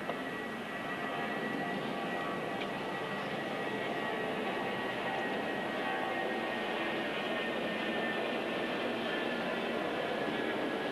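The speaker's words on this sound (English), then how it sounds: "These aircraft are not supposed to fly straight over this stadium." A fixed-wing aircraft flies low over an outdoor tennis stadium during a professional match, giving a steady broad engine roar that stays loud and constant the whole time, with no voices heard.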